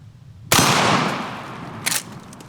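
A single loud blast from a tactical lever-action 12 gauge shotgun hitting a small pie pumpkin outdoors, with a sharp crack and a long decaying tail, then a shorter secondary burst a moment later.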